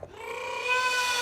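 A cat lets out a single drawn-out meow, close and clear, rising slightly in pitch as it continues.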